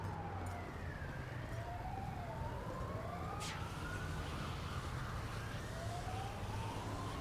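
A video game fire engine siren wails steadily in rising and falling sweeps against a constant rumbling background, fairly distant and with no voices.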